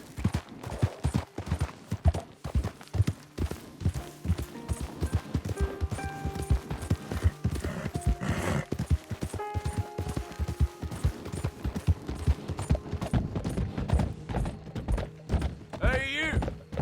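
Horse galloping in the Red Dead Redemption 2 video game, hooves clip-clopping in a steady quick rhythm under music and background game sounds, with sporadic thuds and a brief cry near the end.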